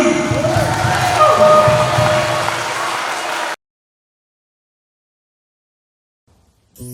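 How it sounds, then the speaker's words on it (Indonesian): A seminar audience at an Islamic boarding school applauds a guest speaker, a dense, steady burst of clapping and crowd noise for a few seconds that cuts off abruptly into silence. "Oke, beri tepuk tangan untuk Kak Shirley."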